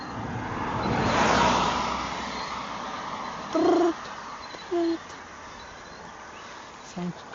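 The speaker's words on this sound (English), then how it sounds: "Some kind of bird probably." A bird, probably a pigeon or dove, calls outdoors along a route through Japan: three short, separate tonal coos spaced a second or so apart follow a swell of broadband background noise, moderately clear and fairly near.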